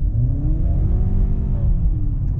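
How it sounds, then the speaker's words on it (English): Deep, throaty engine hum from a 2020 Honda CR-V Hybrid while driving, a steady low rumble with rising and falling tones as the revs shift, heard close and alone. "the engine is more throatier. It's a deeper sound than the regular 2-liter"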